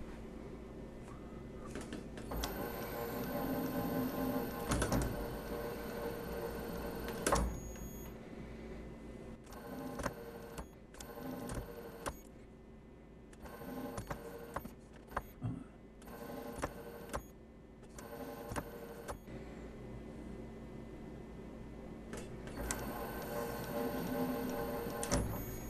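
A lathe cuts a thread on a BNC style connector part, making a steady mechanical whir with repeated start-stop passes, separated by short pauses and intermittent ticking clicks from the machine.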